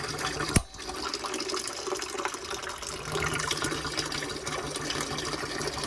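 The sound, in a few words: water draining from small electric water heater tank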